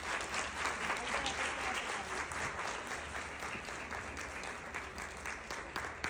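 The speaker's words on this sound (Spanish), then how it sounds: "Que se escuche fuerte ese aplauso" Sustained audience applause closing an educational conference on inclusive education, a dense, even wash of many hands clapping that holds steady throughout with no voices on top.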